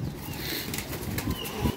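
Mustafa Bhai's paired pigeons flap their wings in a brief flurry of soft, papery wingbeats, close by and fairly steady, with a few sharper flutters near the end.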